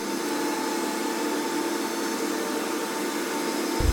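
An oil purifier bowl discharging after auto stop is pressed, heard as a loud, steady machinery whir with a sudden low thump right at the end.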